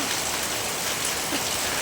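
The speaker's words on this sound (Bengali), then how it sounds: "আরে প্রচণ্ড বৃষ্টি হচ্ছে" Heavy rain pours down in a village, a dense, even hiss of drops that runs loud and unbroken throughout.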